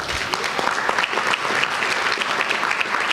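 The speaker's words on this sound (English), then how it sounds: "So can we get a round of applause for all the teachers?" Round of applause for teachers at a community school district board meeting, steady clapping from a modest audience for a few seconds, fairly close, with no talking over it.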